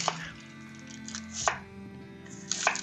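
An onion is chopped with a knife on a board: a few sharp, separate cuts spaced about a second apart, close and fairly loud, in a quiet kitchen with no talking.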